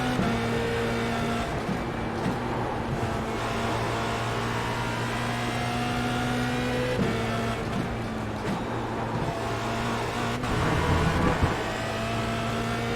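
Formula Renault 2.0 race car engine in the iRacing simulator, a steady mid-revving drone with sustained harmonic tones and brief throttle changes, driven gently on a warm-up lap with no talking.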